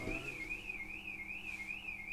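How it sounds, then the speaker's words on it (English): Car alarm whooping in a steady warbling siren tone, rising and falling rhythmically and heard at a distance, faint behind a quiet room with no talk. "let's check whose car alarm this is"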